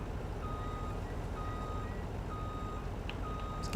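A truck in Farming Simulator 19 sounds its reversing alarm, a steady series of evenly spaced beeps over a constant low engine drone, with no talking.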